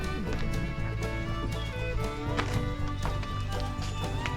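Hooves of a horse pulling a sightseeing carriage through the city of Lampang, Thailand, clip-clopping in a steady rhythmic trot, close and clear, with faint background sounds.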